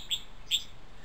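A green bird gives two short, high chirps about half a second apart, close and fairly clear against a quiet background.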